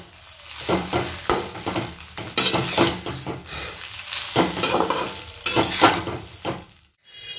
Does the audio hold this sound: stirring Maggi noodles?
yes